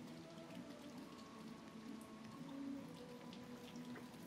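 Soft, steady rain patters in the video game Little Nightmares 2, a faint continuous hiss with scattered droplet ticks and a low background hum, with no voices.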